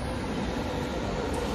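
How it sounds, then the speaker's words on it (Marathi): A train on the Hamburg to Sylt route rumbles steadily nearby, a dense broadband roar with no break, heard alone. "हीअ आहे असांजी ट्रेन"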